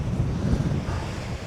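Strong wind buffets the microphone on an exposed hilltop along a hiking trail, a steady loud low roar with gusty swells throughout and no voices.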